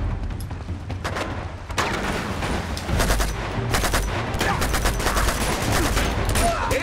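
Heavy combat in Uncharted 2: Among Thieves with a rocket launcher in play, rolling with loud, dense volleys of gunfire and booming blasts, continuous and close, some chatter faintly mixed in.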